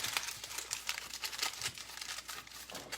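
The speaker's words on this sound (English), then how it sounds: "all I'm going to do is wrap them up like this and just fold the ends up" Salmon fillets are wrapped up and their ends folded over, making soft, close crinkling and rustling of wrap material, quiet and continuous, with no voices.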